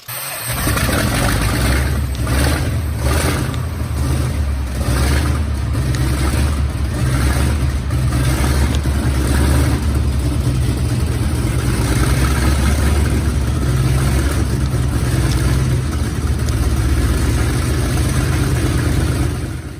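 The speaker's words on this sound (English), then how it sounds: "Turn magneto switch to both positions. O. Engine should start readily." A Continental W-670 radial aircraft engine starts and then runs steadily close by, giving a loud, continuous low rumble with a rough, pulsing texture that holds throughout, with no talk over it.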